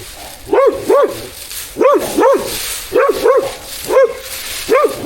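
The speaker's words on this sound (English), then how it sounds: "you're gonna get tired of barking at me, aren't you?" A dog barks repeatedly at close range, often in quick pairs, with short pauses between bursts and no talking.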